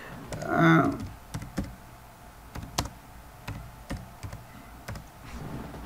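Typing on a computer keyboard into Google Docs, a close series of sharp, irregular key clicks spread across the moment, following a short burst of a voice at the start.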